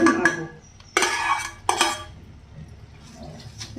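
Spoon scraping and clattering against a pan while stirring a chickpea dal laddu mixture, a few sharp metallic knocks followed by softer, quieter stirring, close and without talk.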